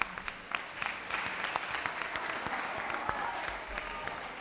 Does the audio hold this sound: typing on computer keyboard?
no